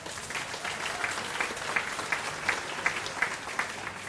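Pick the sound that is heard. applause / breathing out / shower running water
applause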